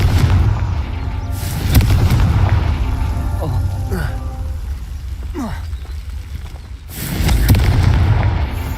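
Confringo blasting spell in a Hogwarts wizarding game: deep booming explosive bursts with rumbling low-end tails, loud and dense, with speech mixed in over the din.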